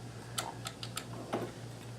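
Several sharp, evenly spaced clicks from a Kenmore 158.1914 sewing machine fitted with a monogrammer attachment, heard up close over a steady low hum, with no talking.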